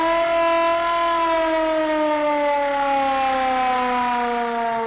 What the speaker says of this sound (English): This is the old siren from the truck. And, you know, I'm still a kid. So I'm just going to crank this.